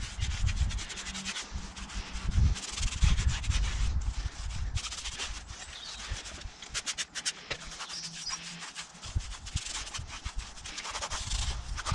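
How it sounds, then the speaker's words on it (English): A microfiber towel wipes the spokes of a car wheel after tyre shine is applied, giving steady soft rubbing and scrubbing strokes, close and continuous, with no talking. "some tire shine and a quick wipe with a microfiber towel to finish off these spokes"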